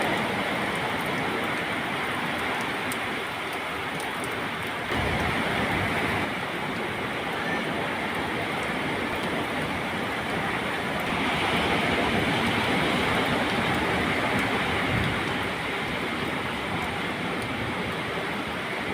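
Big surf crashing at a surfing spot, a steady roaring wash of breaking waves that fills the whole stretch, loud and continuous with occasional swells in intensity.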